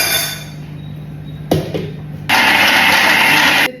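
An electric blender grinds jamun (Indian blackberry) fruit with dates. After a few brief knocks and clunks, it roars up loud and steady for just over a second and then cuts off.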